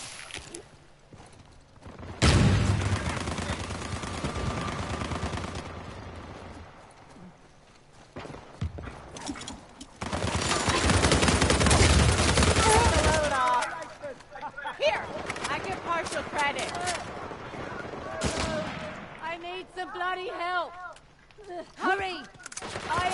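Gunfire in Uncharted 4 multiplayer, including sniper shots: bursts of loud shots and clattering action sounds come and go between quieter stretches, with a voice talking over parts of it.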